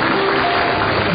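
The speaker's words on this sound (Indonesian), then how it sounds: "Tepuk tangan untuk Desi Ratnasari" A studio audience at an Indonesian comedy talk show claps for the actress Desi Ratnasari, a short, steady burst of applause with no talk over it.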